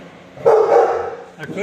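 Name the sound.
dog barking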